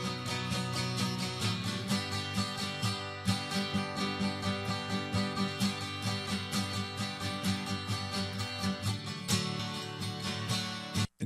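Guitar run through a Positive Grid Pro compressor plugin with its input and output tube stages off, a steady rhythmic strummed pattern with repeated accents, moderately quiet and continuous, ending abruptly.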